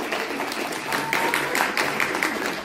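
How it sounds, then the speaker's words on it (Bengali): An audience at a Bengali audio-drama performance bursts into applause: dense, loud clapping that swells and holds for a couple of seconds. "তাহলে জোরে একটা হাত তালি আমাদের সবার জন্য"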